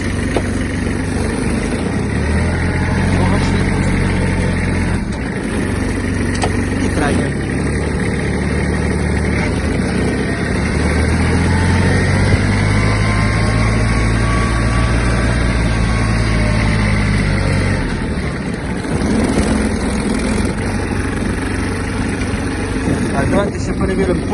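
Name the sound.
Kubota GB-15 mini tractor engine running in first gear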